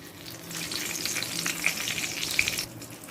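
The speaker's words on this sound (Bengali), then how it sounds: "ওই একই তেলের মধ্যে দিয়ে দিচ্ছি ফোড়ন যেটাতে আছে চারটে তেজপাতা একটা শুকনো লঙ্কা চার পাঁচটা লবঙ্গ এলাচ আর দারচিনি" Whole spices crackle in hot oil for tempering: bay leaves, a dried chili, cloves, cardamom and cinnamon. The sizzle is close and steady, with bright little pops and spits and no voices.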